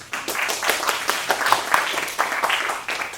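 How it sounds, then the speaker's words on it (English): A round of applause from a university tech talk audience greeting a startup founder, many hands clapping in a lively, uneven patter that swells and dips, fairly close and loud. "let's give him a round of applause"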